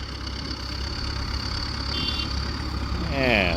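A tractor's steady low engine hum idles continuously, with a faint rising whine near the end.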